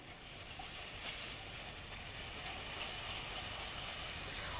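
Chopped onion softens in a frying pan, giving a steady, moderately quiet sizzle and hiss that carries on evenly with no talking over it.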